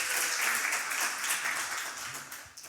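Applause from a church audience after a testimony, a steady wash of clapping that holds fairly even and fades slightly toward the end, with no voices over it.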